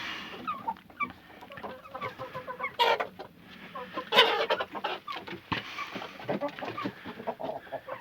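Several chickens cluck and squawk close by in a garden, a busy, irregular chorus with occasional louder calls standing out.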